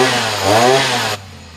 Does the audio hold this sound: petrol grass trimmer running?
yes